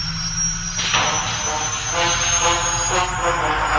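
A game helicopter's engine starts up with a loud, steady whine and rumble that holds constant, with a high tone slowly rising throughout.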